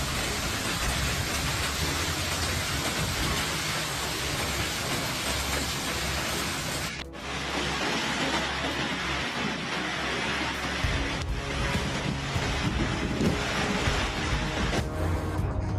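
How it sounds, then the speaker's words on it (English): Heavy rain pours continuously during a flood in Bavaria, a dense, steady hiss with a low wind-like rumble beneath, unbroken and loud from start to finish. "Shouts of panic blend with the howling wind and pounding rain"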